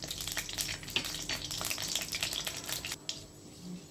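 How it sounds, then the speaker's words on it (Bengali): Bay leaf, two dried red chillies and panch phoron spices crackle and sizzle in hot oil, a steady broadband frying hiss that fades a little near the end. "তারপর এতে দিয়ে দেব একটা তেজপাতা আর দুটো শুকনো লঙ্কা ফোড়নে, আর একটু পাঁচফোড়ন"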